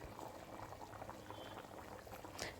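Fish curry with fish pieces bubbles in a covered pot over high flame, a continuous quiet simmer of popping and gurgling bubbles with no talking.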